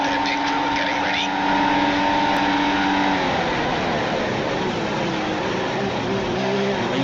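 Formula 1 race cars in a 2015 F1 video game, on the Italy circuit, roar steadily as engines rev and accelerate, with talk running over the continuous engine note.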